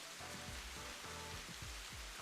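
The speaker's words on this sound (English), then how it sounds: "うわ、雨だ。" Rain falls in a steady, dense hiss of drops on surfaces, even and continuous throughout, fairly quiet, with no talking over it.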